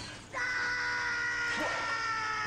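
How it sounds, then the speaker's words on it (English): A single sustained, high-pitched scream breaks in abruptly after a short lull and holds loud and steady for about two seconds, close to the microphone. "Rabid screams."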